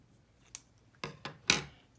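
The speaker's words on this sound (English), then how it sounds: "If I cut along this dashed line straight up" Scissors cutting a paper shape along a dashed line, a few crisp, close snips spaced unevenly over two seconds, the last one loudest, with no one talking.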